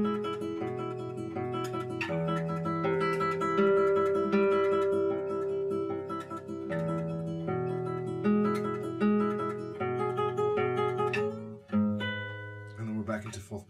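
A classical guitar plays the opening motif of Barrios' Una Limosna por el Amor de Dios in tremolo, with a bass line under rapid, shimmering repeated treble notes, clear and close for the whole passage.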